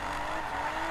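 A Nissan Skyline R32 drift car engine drones at high revs while drifting, a brief, dense, steady roar with tire noise, heard close and loud without a break.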